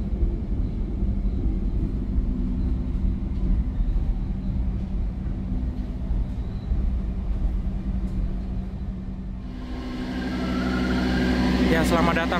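The Pangandaran passenger train pulls into Karawang station with a steady low rumble of wheels and carriages, then a loud rushing hiss rises near the end, while a voice talks over it.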